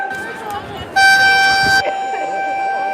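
Car horns honking at a street protest march beside stone parliament buildings, a loud sustained blast rising over crowd chatter, with a fainter tone continuing after it.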